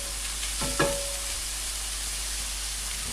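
Chopped vegetables for a bolognese sauce hiss steadily in a hot pan, with a brief scrape of stirring and spreading near the start before an even, continuous sizzle carries on alone.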